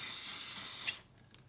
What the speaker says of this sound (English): Give it a quick spray just to seal it.